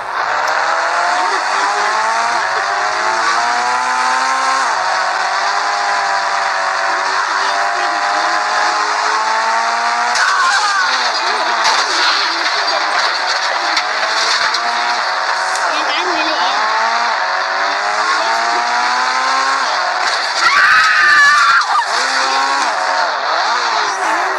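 Race car engine from the Indian Bike Driving 3D mobile game, a steady loud drone with rising and falling pitch as it accelerates, running continuously throughout with a brief burst of extra noise near the end.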